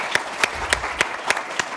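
Audience applause after a talk on transatlantic relations, heard as a sparse, steady patter of hand claps with a few sharper claps standing out, fairly close and without speech.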